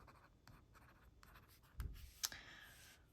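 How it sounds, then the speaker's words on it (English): Pen nib scratching across a reMarkable Paper Pure e-ink tablet, a quiet, soft scraping with faint strokes and a couple of sharper taps near the end, alone without talk. "as I write, it is getting a little slicker"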